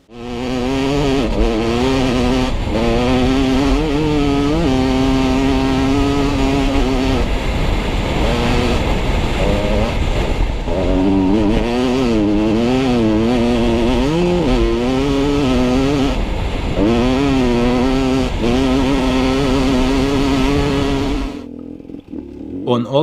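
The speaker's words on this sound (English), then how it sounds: "And on the KTM bike, the TPI version, the wheel is just like spinning around." A KTM TPI two-stroke dirt bike engine revs loud and close in a continuous run of rising and falling pitch sweeps, the engine note wavering throughout before cutting off near the end.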